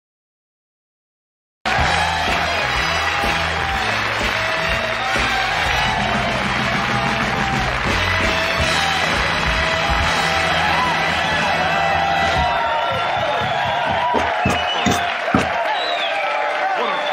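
A large live audience cheers, whoops and yells continuously, loud and dense, with clapping mixed in and voices shouting throughout.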